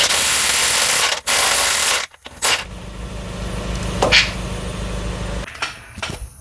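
A ratchet working loose a bolt on the oil pan of a 2007-2014 GMC/Chevy truck: a loud broad rush gives way to brief clicks and clunks over a low droning hum, fairly close.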